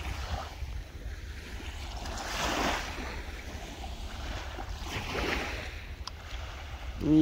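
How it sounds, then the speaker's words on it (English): Waves wash onto a beach in New Jersey, a steady roar with two gentle swells of surf and wind buffeting the microphone, with no talk. "As you can see, this is the beach."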